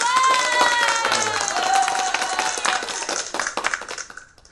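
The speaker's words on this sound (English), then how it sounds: "come on, give me a clap" Audience at an evening talk-and-music event clapping together, a fairly loud, steady patter of hands that gradually thins toward the end with some crowd murmur underneath.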